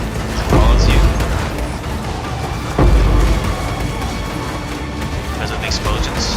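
Explosions in an action role-playing game, heavy booms and crashes hitting in a couple of strong bursts over busy game noise, with someone talking throughout.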